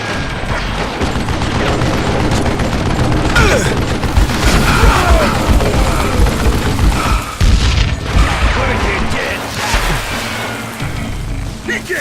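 Gunfire in the Wild West shooter Call of Juarez Gunslinger: loud, dense bursts of shots and booms roll continuously with crashes and clatter, shouted voices mixed in amid the barrage.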